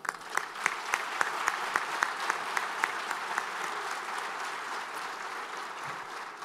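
Audience applause at the MEDays 2022 opening ceremony in Tangier, welcoming Dr. George Weah, with sustained clapping from a crowd and sharp individual claps standing out, continuous throughout.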